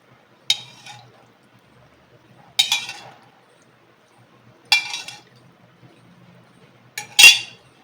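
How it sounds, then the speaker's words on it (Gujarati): Hot tempering is poured over nylon khaman in four short separate bursts, each a sharp sizzle and spatter that quickly fades, close and otherwise quiet. "એમ કે બધો જ વઘાર આપણે રેડી દેવાનો છે"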